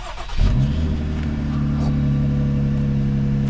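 A Jeep Wrangler JL with the 3.6 engine fires up after a brief rustle, then settles into a steady idle to warm up, close and continuous.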